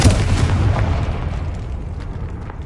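In the video game Hogwarts Legacy, a Confringo fire spell bursts in a single loud, booming explosion that decays quickly into a rumbling tail.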